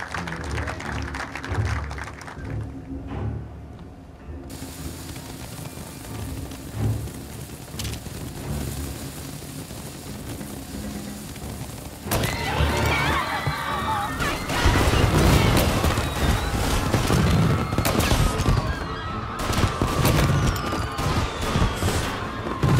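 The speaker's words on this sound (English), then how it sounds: "And now for the fireworks" Fireworks bursting during a celebration in Mafia: Definitive Edition, a dense crackling and popping barrage that swells louder in the second half, with a continuous rumble and scattered sharp bangs.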